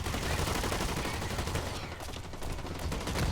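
Rapid gunfire in the shooter game Blacklight Retribution, dense automatic bursts crackling almost continuously and loudly throughout, with a brief slight lull midway before the shots pick up again.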